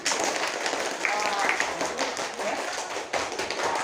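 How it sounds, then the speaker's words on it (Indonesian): Students in a classroom clapping for a garden group, a loose, moderate round of hand claps that continues steadily with a few voices mixed in. "beri tepuk tangan untuk kelompok kebun dong"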